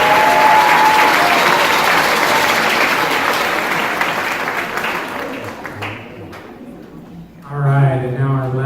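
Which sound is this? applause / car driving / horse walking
applause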